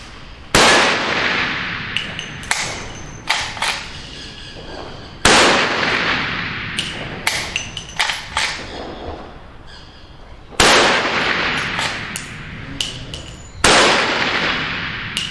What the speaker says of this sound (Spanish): Para los 5 disparos en 10 segundos, comenzar.